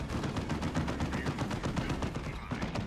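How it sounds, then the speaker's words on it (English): Rapid bursts of turret gunfire in Warhammer 40,000: Dawn of War 2, loud and continuous, with dense overlapping shots across a Chaos Invasion battle against Heretics. "I think that meant the turret could shoot them"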